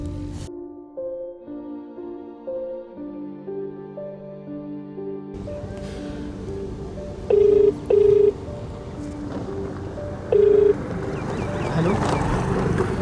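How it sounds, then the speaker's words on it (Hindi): Phone call being placed in a Hindi short film: a sequence of stepped dialing tones fills the first seconds, followed by busier sound with three distinct ringback-like beeps and voices in the background. "तू ले मेरा फोन, से बात कर ले, कॉल कर ले।"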